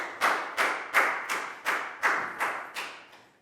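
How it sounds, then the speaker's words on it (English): Eight evenly spaced claps, each with a quick decay, come from a Year 4 class applauding a pupil during a maths lesson. They sound close and moderately loud, with no talking. "High five and a big round of applause for Pat"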